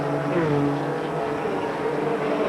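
Race cars in a 1994 NASCAR Busch Grand National Series event at Darlington Raceway roar steadily, with overlapping engine drones rising and shifting in pitch as the pack runs at full speed.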